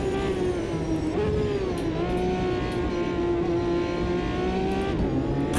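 A turbocharged race car in the Automobilista 2 racing game accelerates hard, its engine note loud and close, climbing in pitch, with brief dips at gear changes.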